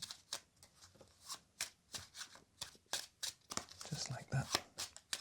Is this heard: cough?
no